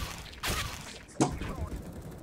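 Two sharp gunfire bursts crack out in a multiplayer shooter match, fairly quiet and spaced about a second apart, with low game noise between them.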